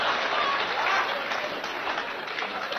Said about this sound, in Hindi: इस स्कीम पर तो बुजुर्गों ने सबसे ज्यादा तालियां बजाई